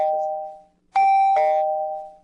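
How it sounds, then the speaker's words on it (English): A doorbell chime signalling an incoming video chat request: clear, loud ding-dong tones, one fading tone followed by two bright struck notes ringing out and decaying, heard alone. "it'll ring a doorbell for JC"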